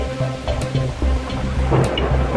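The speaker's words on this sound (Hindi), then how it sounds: "बारिश है कि थमने का नाम ही नहीं ले रही।" Heavy rain pours steadily in a cartoon scene, a dense hiss with low rumbling thuds beneath it, continuous and fairly loud.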